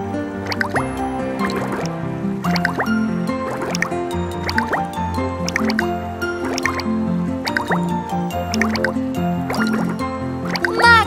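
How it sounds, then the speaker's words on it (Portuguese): A toy bubble machine in a children's cartoon gives off repeated wet, dripping pops and gurgles in a steady rhythm, with liquid squishes and soft tonal blips over a quiet background. "Máquina de bolhas."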